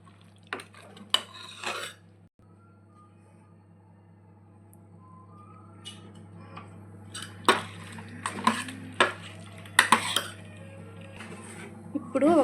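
A spoon stirring sambar of lentils, hyacinth beans, potato, eggplant and masala in a metal pot, with scattered clinks and scrapes against the pot over a steady low hum, and a few brief voice sounds.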